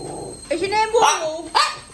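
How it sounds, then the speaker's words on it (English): A dog at home lets out a few short barks and yips that rise into whiny, whimpering tones, close and loud, with a person's voice speaking around them. "No, we're not barking."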